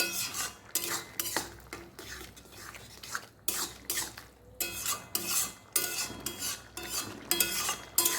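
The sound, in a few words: stirring bottle gourd and potato curry with coriander paste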